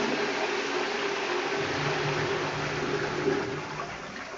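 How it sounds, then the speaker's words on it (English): A high-level Dudley Tri Shell cistern flushes a toilet in a leisure centre washroom, giving a steady, strong rush of water that holds for several seconds and then eases off slightly at the end, with no talk. "That's a really good flush though,"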